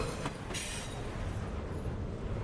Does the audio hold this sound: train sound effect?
yes